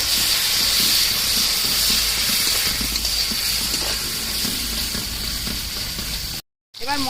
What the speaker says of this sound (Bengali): এবার মশলার জল ঢেলে দেবো, কষিয়ে একটু মশলার জল দেবো,